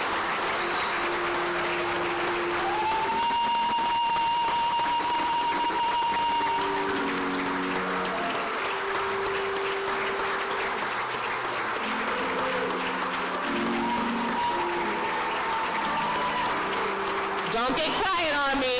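An audience applauds at a medical school white coat ceremony in Harlem: loud sustained clapping throughout, with sustained tones and voices mixed in over it.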